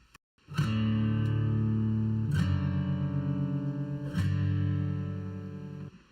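Three strong single strums on an acoustic guitar ring out one after another, each sustained and heavily processed with a distorted, effected tone.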